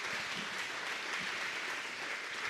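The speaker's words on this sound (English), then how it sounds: "Let's give Rob a round of applause." An audience applauds a nominee at a chamber of commerce awards event, steady dense clapping filling the room throughout with no pauses.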